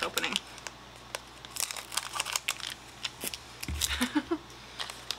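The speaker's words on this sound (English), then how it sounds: "Okay, scissors." Scissors snip and crinkle through a Japanese Pokemon card pack, with close rustling, crackling foil and several sharp cuts, while people talk nearby.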